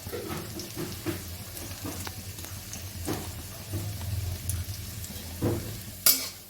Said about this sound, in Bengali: রসুন কুচো দিয়ে দিলাম ফোড়নে।